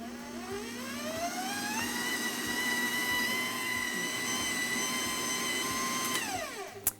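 A stand mixer whips Swiss-style meringue buttercream at high speed, a loud steady motor whine that rises in pitch early on, holds, then winds down at the end with a brief clunk.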